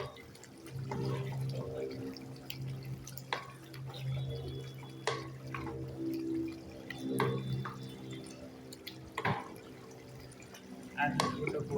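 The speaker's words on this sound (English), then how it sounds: "Add a little bit of water." Water added to a cooking pan holding chicken, onion and tomato paste, giving soft dripping and liquid splashes over steady sizzling, with a person talking throughout.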